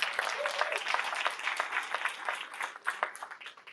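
Round of applause from an audience at a veterans' scholarship awards event, a brief, faint burst of many hands clapping.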